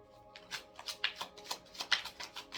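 A deck of tarot cards is shuffled by hand in a quick run of about eight riffling bursts, close and crisp, with no talking.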